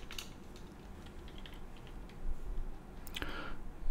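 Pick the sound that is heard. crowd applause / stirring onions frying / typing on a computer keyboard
typing on a computer keyboard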